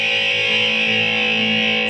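A guitar chord rings out through a solid state amp with heavy drive and gain, loud and sustained, its distorted tone held evenly without any talking.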